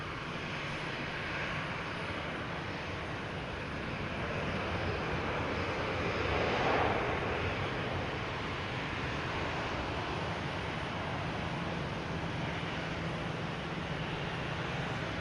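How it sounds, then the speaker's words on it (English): A UPS Boeing 767 cargo jet at Boston Logan Airport gives a steady, broad engine roar that swells slightly near the middle and holds for the full stretch, with no talking over it. "All right, now we got that 767 UPS."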